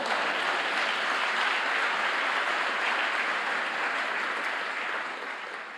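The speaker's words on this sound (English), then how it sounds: "You usually gets a wee round of applause." Sustained applause from a graduation ceremony audience at the University of St Andrews, a dense, steady wash of clapping that holds evenly and then begins to thin and fade in the last second.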